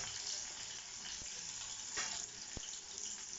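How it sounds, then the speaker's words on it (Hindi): Finely chopped medium onions hit hot oil in a pan and fry with a steady, close hiss of sizzling, broken by a couple of soft clicks as the cooking continues. "टू मीडियम साइज ऑनियन जिसको हमने बारीक चॉप कर लिया है, से भी हम ऑयल में ऐड कर लेंगे।"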